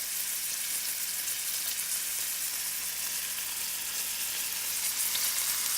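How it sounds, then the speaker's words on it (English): Food fries in a pan as a tomato roasted red pepper soup is being made, a steady close sizzle with fine crackling that runs evenly throughout and no voices. "So you just want to allow it to fry evenly on each side"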